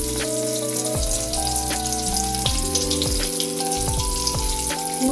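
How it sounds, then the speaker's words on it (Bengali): Whole cumin seeds and chopped tomato hit hot mustard oil in a kadai, giving a steady, close, continuous sizzle and spatter throughout, with sustained tonal sounds running alongside. "ওই কড়াইতেই আরও কিছুটা সর্ষের তেল দিয়েছি। ফোড়নে দিচ্ছি গোটা জিরে, টমেটো কুচি দিয়ে দিচ্ছি।"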